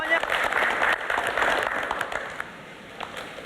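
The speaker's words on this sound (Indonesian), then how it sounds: "Dan kita semangatin lagi yuk, tepuk tangannya." A studio audience at a Ramadan pre-dawn (sahur) religious show applauds steadily, a dense, fairly loud wash of clapping that eases off slightly toward the end.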